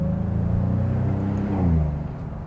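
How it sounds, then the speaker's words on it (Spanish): Maserati GranCabrio Trofeo engine pulling hard under acceleration on the road, a steady deep rumble that swells and rises in pitch near the middle before easing, heard alone and fairly loud. "Qué sonido, por Dios. Es una auténtica maravilla de coche."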